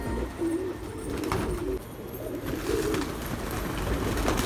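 Pigeons coo softly in a low, repeated rhythm while being fed grain, mixed with a steady rustling background and occasional light clicks.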